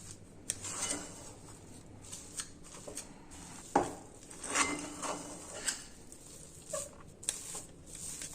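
Grated coconut mixture for koprapak is stirred in a pan, giving soft, irregular scraping and shuffling strokes with a few sharper taps, faint and close, with no voices.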